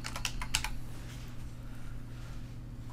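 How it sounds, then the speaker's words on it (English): A short burst of typing on a computer keyboard, a few quick close key clicks near the start that fade into a low steady room hum, with no voices. "Simply type in Contact Form"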